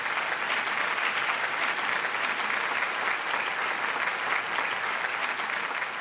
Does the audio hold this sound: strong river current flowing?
no